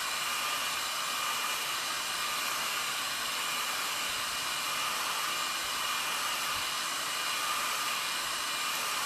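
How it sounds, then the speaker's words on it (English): A hair dryer switched to its cool setting blows a steady, even whoosh of airflow throughout, loud and close, with no talking over it. "cool setting on the hair dryer"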